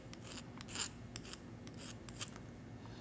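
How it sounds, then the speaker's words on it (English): Heavy hand file rasping the corners of a stamped metal bracelet round, a few quick scraping strokes close up, faint and without speech. "I'm going to use just a heavy file now and"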